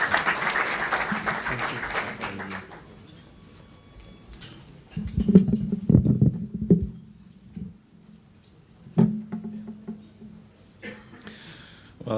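Seminar audience on halal compliance training clapping for a speaker: a burst of applause at first, thinning into scattered claps, then footsteps, shuffling and knocks in the room as the applause fades.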